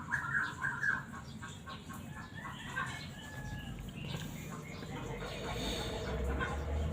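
Recovering chickens pecking at feed, with soft clucks and brief bird calls over faint background rustle and low ambient noise, close but quiet.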